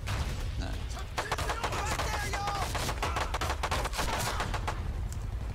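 Dense gunfire crackles nonstop through a Pacific battle in Medal of Honor: Pacific Assault, rapid overlapping shots and bursts over a constant rumbling din of combat, moderately loud throughout.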